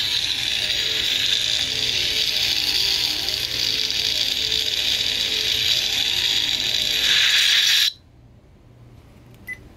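Custom Korbanth Crossguard V2 Neopixel Proffieboard lightsaber hilt opening to expose its crystal chamber, giving a steady mechanical buzzing, ratcheting whir that runs loud and continuous for several seconds, then cuts off abruptly into near silence.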